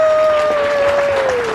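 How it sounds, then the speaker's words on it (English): Applause at a school awards assembly, brief and loud, with a steady sustained whistle-like tone running through the clapping. "Let's give them a big round of applause for showing up."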